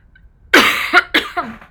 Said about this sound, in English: you're going to have to tolerate me while I cough one more time